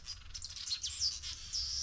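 Weaver birds chirping and singing around a gate, a dense run of high, quick tweets and trills over a low steady background, with no voices.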